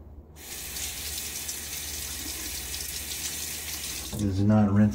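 Water from a bathroom tap runs steadily for several seconds while a safety razor is rinsed under it during a wet shave, a continuous close splashing hiss that ends as a voice begins speaking.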